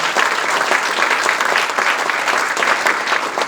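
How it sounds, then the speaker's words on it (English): Dense, loud applause from an audience at a college building's grand reopening, a continuous crackling wall of many hands clapping throughout. "please, a round of applause for all the folks involved"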